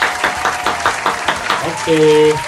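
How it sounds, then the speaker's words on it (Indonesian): Children clap their hands during an online worship service for kids with special needs: a quick run of rhythmic, fairly close claps, followed by a brief spoken voice at the end. "Beri tepuk tangan dulu adik-adik buat teman kita ya."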